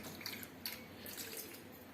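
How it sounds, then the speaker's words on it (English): Water pours into a cooking pot of radish and carrot sambar, a short, close, splashing trickle with small drips, heard alone without talk. "Let's add water in this."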